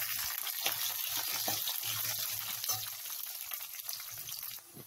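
Garlic, onions, dried red chilies and coriander seeds fry in a pan for gongura chutney, giving a steady close sizzle with soft stirring scrapes and low rhythmic bumps, continuous and without speech.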